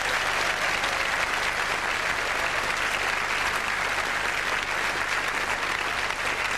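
A concert audience gives the band a sustained round of applause, a thick, even roar of many hands clapping at constant loudness with no voices standing out.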